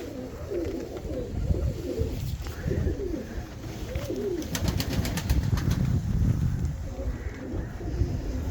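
Pigeons coo repeatedly in soft, rolling phrases close to the microphone, over light wind and low rumbling background noise.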